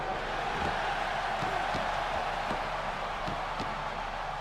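Steady, dense arena crowd noise from a WWE 2K17 wrestling match, a continuous roar of fans cheering with faint thuds and impacts from the ring scattered throughout.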